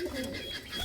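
Racing pigeons coo softly close by in a loft, with a brief low cooing call over faint background noise.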